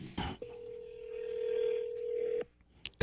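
A telephone call placed on speakerphone in a radio studio: a click, then a long steady dial or ringback tone lasting about two seconds before cutting off, followed by faint clicks.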